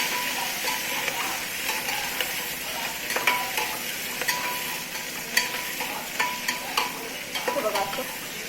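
Spiced rice fried with onion and ginger in a pan until red, a constant close sizzle with frequent scraping and clinking of a spoon against the pan, no voices.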